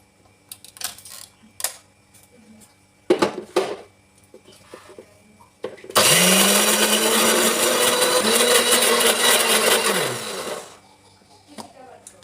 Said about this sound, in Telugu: మిక్సీ తీసుకొని ఇంకా మనమైతే మిక్సీకి అయితే పట్టుకోవాలి ఈ మినపగుండ్లని